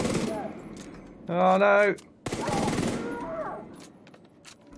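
Rapid gunfire from a weapon in The Division 2 plays in a dense burst mid-clip, then cuts out as if the magazine runs dry, with a voice exclaiming before and talking over the game sounds after.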